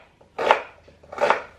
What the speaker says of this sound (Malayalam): കത്തി നല്ലതാണ്, പക്ഷെ ഈ സവാള അരിയാന്ന് പറഞ്ഞാൽ പണിയാണ്.